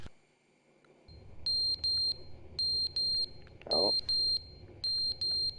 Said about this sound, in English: Is that smoke alarm? It is a smoke alarm.